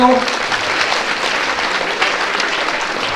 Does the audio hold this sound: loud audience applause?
yes